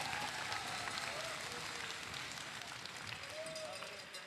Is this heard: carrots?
no